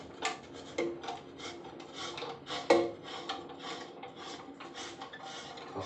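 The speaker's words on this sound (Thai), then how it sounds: "ไขควงแบนถอดกันด้วยครับ" Flat-blade screwdriver working loose toilet fittings, giving intermittent close scraping, rasping and clicking metal-on-ceramic sounds with a few sharper knocks, and no voice.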